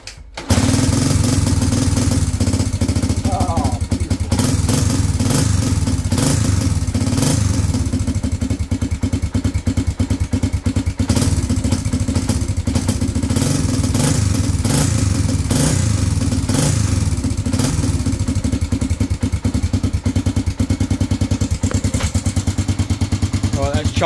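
A Honda CB250RS motorcycle is kick-started and its single engine runs loud and close, chugging in a steady, slightly lumpy rhythm for the whole stretch, with some clattery mechanical noise on top.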